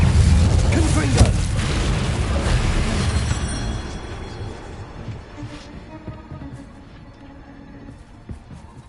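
A Confringo explosion spell in Hogwarts Legacy, a loud booming blast with a rumbling burst that gradually decays into quieter game ambience, with a voice speaking during it.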